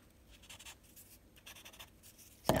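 A paper stump drags softly over charcoal on drawing paper, making faint scratchy strokes that end in one louder, close scrape.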